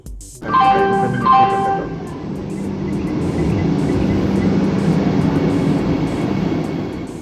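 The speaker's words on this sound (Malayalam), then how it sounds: "ഈ ട്രെയിൻ ദൂരെ നിന്ന് വരുന്നുണ്ട് ഇപ്പം ഇങ്ങെത്തും" A Vande Bharat Express train approaches, sounding a two-part horn blast, then a swelling rumble and rush of wheels and air that grows steadily louder and closer, with no talking.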